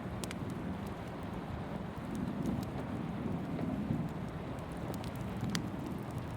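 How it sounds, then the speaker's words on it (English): Rainstorm pouring against the window glass of a forest cabin, a steady, dense hiss with scattered sharper taps of individual drops, continuous and fairly close throughout. "notice the way the raindrops create tiny streams as they slide down the glass"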